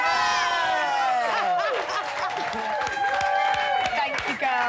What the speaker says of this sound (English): Please give a massive round of applause for Sophia, Grace and Rosie